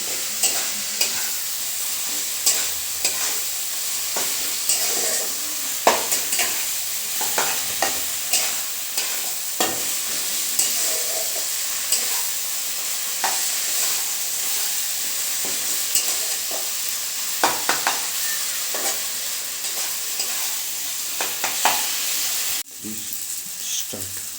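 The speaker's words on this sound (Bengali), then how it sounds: "এবার সমস্ত উপকরণগুলো আমি ভালো করে মিক্স করে নেব" Chicken pieces get mixed with garlic, ginger and green chilli pastes in a pan, a steady sizzle and hiss under repeated scraping and clacking of a spoon, close and continuous with no talking.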